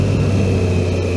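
A Triumph Tiger 660 motorcycle engine drones loud and close with a steady low rumble, a brief dip as the rider downshifts.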